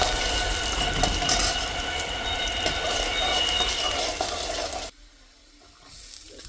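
Ginger garlic paste sizzles in hot oil in a kadai, a steady loud crackling hiss up close that suddenly drops away near the end, leaving a quieter background, with no talk.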